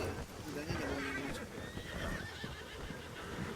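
Horse neighing and hooves in the Red Dead Redemption 2 video game: a whinny rises over steady clip-clopping steps, with voices talking over the scene throughout.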